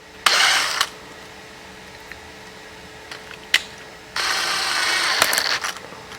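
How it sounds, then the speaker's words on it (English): A drill spinning a 1974 Honda CL450 motorcycle float pin against 1000 grit sandpaper, two bursts of steady whirring grind with clicks between, close and fairly loud over a quiet room hum. "A little bit of sandpaper and the drill."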